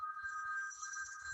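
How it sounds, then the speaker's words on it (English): A mobile phone rings loudly indoors with a steady, bright electronic tone that sustains throughout, over a faint low background and no talking. "there's my phone being loud."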